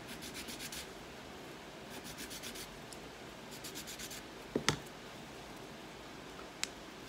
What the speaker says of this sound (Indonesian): Nah, supaya rapi, amplas.